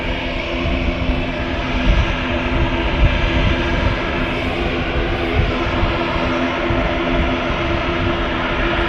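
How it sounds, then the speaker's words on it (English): Loganair ATR turboprop departing Manchester Airport: loud, sustained engine roar with a steady droning hum, close and constant, no talk. "Logan Air ATR now departing."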